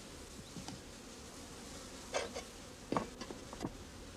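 Honey bee workers at the hive give off a faint, steady buzzing hum broken by a few brief louder buzzes and light taps, with no voices.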